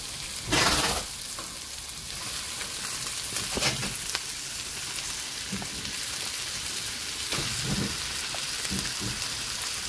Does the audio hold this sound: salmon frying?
yes